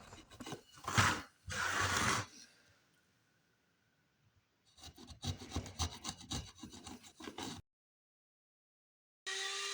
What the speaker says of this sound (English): A little light chisel work to clean her up.